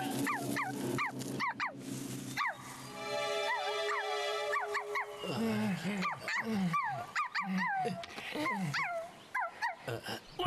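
A cartoon dog barks and yips in quick repeated bursts, mixed with snarling growls and a sustained whine, loud and close throughout the animated film.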